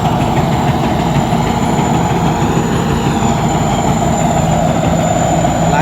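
A rice combine harvester, about five or six years old and driven one-handed, runs on its first day of harvest trials with a sluggish system. It makes a loud, steady, close engine drone with a constant mechanical rattle and no pauses.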